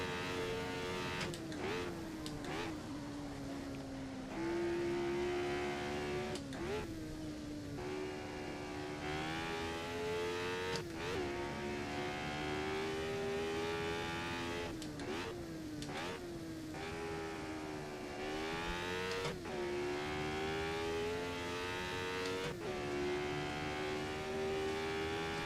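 A Formula 1 car blasts up the Goodwood course, its loud, high engine wail climbing in pitch again and again, broken by sharp gear changes and brief lifts between rising bursts.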